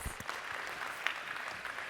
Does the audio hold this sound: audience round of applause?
yes